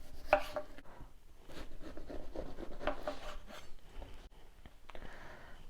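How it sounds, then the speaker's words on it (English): A knife slices and scrapes through pumpkin, the top and tail cut off and the skin peeled from the sides in soft, close rasping strokes with brief pauses, quiet and alone. "I just literally top and tail and peel the sides off"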